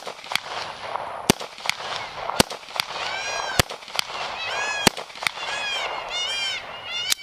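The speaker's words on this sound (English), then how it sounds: "this right here is a 9mm handgun, it can do what it is that you need it to do" A 9mm handgun fired at a shooting range, with a string of sharp, loud, evenly spaced shots and ringing echoes between them.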